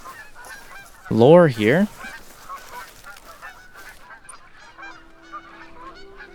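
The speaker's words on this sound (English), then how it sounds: "There's some geese flying above." Geese honk in a loud, wavering burst of calls overhead in the hunting game The Hunter: Call of the Wild, lasting under a second, with quiet ambient forest sound and faint talk around it.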